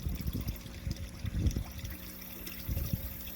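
A black pie pan used as a Secchi disk is lowered into water. Soft close trickling and sloshing come in irregular splashes, with a low steady hum underneath.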